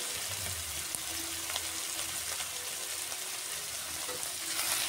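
Lentil fritter batter seasoned with turmeric and salt fries in hot oil, a steady close sizzle with faint crackles and occasional stirring sounds, and no talking.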